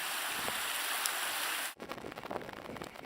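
A river flowing at a fording spot in the Lakes, with a steady rushing wash of water close by that cuts off abruptly partway through, followed by quieter rustling and handling noise.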